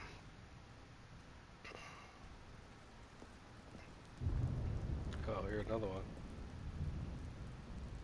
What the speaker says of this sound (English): Just raining all sad.